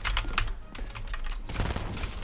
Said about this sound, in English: I hear your keys clicking so loud